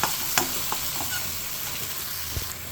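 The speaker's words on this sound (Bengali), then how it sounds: "এবার টমেটোটা দিয়ে আমরা খানিকটা টাইম নাড়াচাড়া করে ভালো করে ভেজে নেব।" Tomatoes and spices sizzle and fry in a pan while being stirred, with a steady close crackle and occasional scraping knocks of the spoon, no voices.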